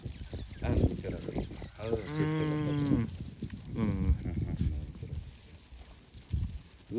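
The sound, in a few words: sheep and lambs bleating on a farm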